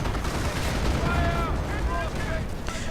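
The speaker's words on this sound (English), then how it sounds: "Artillery just keeps flying through the air." Artillery and gunfire from a World War II strategy video game, with Panther tanks, anti-tank guns and howitzers in play, form a dense, continuous rumble of distant blasts and shots beneath steady commentary.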